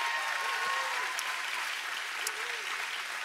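A church congregation gives a big round of applause, a full, sustained wash of clapping across the room with faint voices mixed in.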